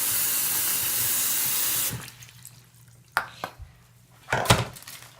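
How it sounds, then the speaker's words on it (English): Water runs steadily from a tap in a loud, close, even rush for about two seconds, then stops. A few clinks and knocks of handled objects follow in a quieter room. "he decided to turn some water on"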